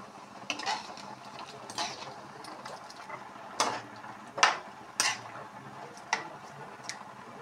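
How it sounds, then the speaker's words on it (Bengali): Spoon stirring mung dal with kasuri methi in a cooking pot, giving several separate clinks and scrapes against the metal at an uneven pace over a low simmering background, close and fairly quiet. "কচুরি মেথি দিয়ে কিছুক্ষণ লাড়িয়ে দিচ্ছি যেন সেন্টটা পুরোটা ডালের মধ্যে মিশ্রিত হয়।"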